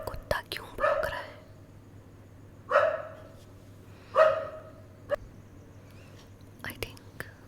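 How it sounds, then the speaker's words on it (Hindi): A dog barks a few times at a moderate distance in separate short bursts, between stretches of soft whispered speech. "ये कुत्ता क्यों भौंक रहा है."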